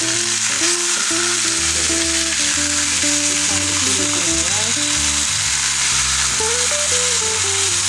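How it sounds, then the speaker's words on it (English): Osso buco, meat on the bone, browns in a pan with a constant bright sizzle that runs beneath tonal background sound throughout. "just cooking on it to make sure the browning is happening"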